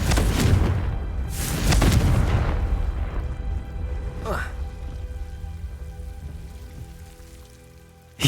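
A Confringo spell explosion in the video game Hogwarts Legacy booms out among other spell blasts, with two heavy bursts followed by a sharp crackling impact and a slowly decaying rumble.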